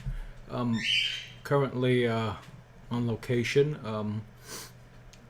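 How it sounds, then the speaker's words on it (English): Three pet cockatiels chirp faintly in the background, their brief squawks scattered beneath a person talking steadily up close. "the little noise you hear in the background are my three cockatiels that are chirping"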